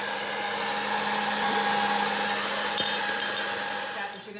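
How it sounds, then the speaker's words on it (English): A blow dryer on its low setting drying pumpkin seeds, a steady whirring hum with a faint motor whine that runs without a break and drops off at the very end. "get a blow dryer, and guys, don't put it on the highest setting."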